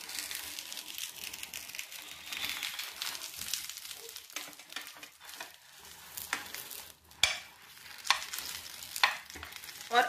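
A gluten-free breakfast cooks in a pan with steady close sizzling and frying, broken by scraping stirs and a few sharp spatula knocks toward the end.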